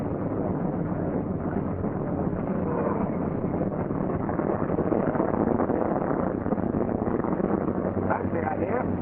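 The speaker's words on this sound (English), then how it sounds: "As engine begins to fire, retard throttle and return mixture control to auto rich." C-47 Skytrain aircraft engines roar in a steady, unbroken drone, heard on dull, band-limited old-film audio with a voice talking over the noise.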